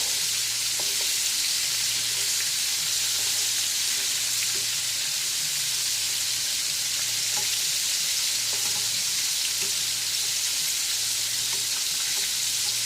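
Battered chicken pieces for orange chicken fry in hot oil, making a continuous even sizzle with occasional soft spatula taps and shifts as pieces are flipped; no voices are heard.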